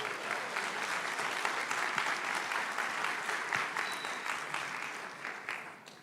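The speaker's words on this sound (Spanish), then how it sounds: "un aplauso para la unidad educativa" A church congregation applauds steadily during a sermon by a deacon, a dense, even wash of clapping from many hands that holds at one level for the whole stretch and fades slightly toward the end.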